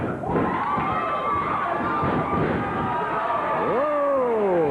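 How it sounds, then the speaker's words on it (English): A wrestling arena crowd at a USWA tag team match cheers and roars, a dense sustained wash of voices with whistles and shouts rising over it. "Whoa, crowd likes that."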